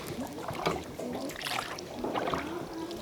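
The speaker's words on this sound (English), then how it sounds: "The lady is rowing behind us." A rowing boat worked by a woman with oars on a cave river tour route in Ninh Binh, Vietnam; faint water splashes and oar strokes sit under steady outdoor ambience and wind with no clear talk.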